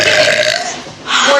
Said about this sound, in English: I just burped just now.